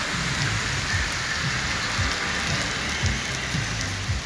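Heavy rain pours on 42nd Street at Madison Avenue in New York, a dense steady hiss of drops hitting pavement with faint low rumbles underneath, continuous throughout.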